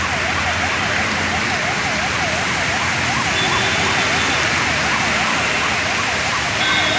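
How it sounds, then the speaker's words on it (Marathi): An ambulance siren wails in a steady, repeating rise and fall, somewhat distant ahead on a bridge road near Rabale railway station, under heavy monsoon rain hissing loudly throughout. "तिथं आपल्या ॲम्ब्युलन्सचा हॉर्न वाजतोय पुढं."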